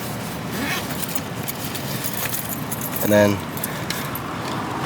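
A ring of keys jangles briefly near the mic, a short metallic clinking burst while a person talks over outdoor background noise.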